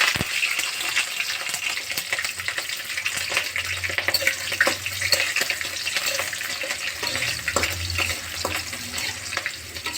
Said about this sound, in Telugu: ఇలా బాగా వేయించుకోవాలండి.